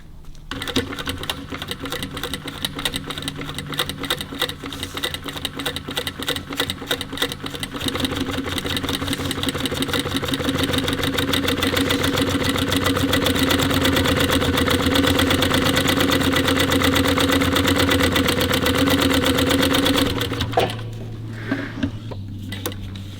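A heavy-duty sewing machine stitching car windlace for a 1954 Ford Mercury Monterey Sun Valley, a loud, close, rapid mechanical chatter that runs steadily for about twenty seconds before stopping, leaving a low motor hum.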